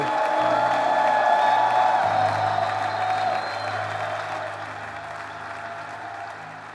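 A church congregation claps and cheers in praise of God, a steady wash of applause with scattered whoops over sustained organ or keyboard tones, loud and continuous throughout before easing slightly toward the end.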